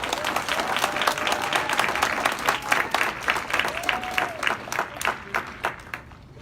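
Warm applause greets an honoree named Sierra at a 30-and-under celebration, the clapping thinning into scattered distinct claps toward the end.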